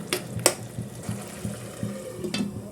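A spoon stirs chopped tomato into a pot of simmering egg kurma, giving soft, rhythmic scrapes and a few sharper knocks against the pan over a faint bubbling.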